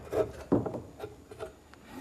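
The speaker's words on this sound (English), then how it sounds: "the back saw is the perfect tool to make that notch" A back saw draws a few quick rasping strokes through 7/8 inch wood stock held in a vise to cut a notch, faint and close, with uneven pauses between strokes.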